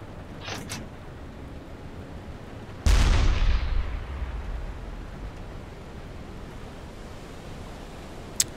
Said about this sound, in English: I'm about to fire a torpedo with this thing.